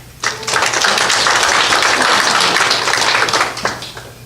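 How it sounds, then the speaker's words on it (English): An audience applauds for a woman at a training session, a dense burst of many hands clapping that starts abruptly, holds steady for about three seconds, then tapers off. "Applause for Erin."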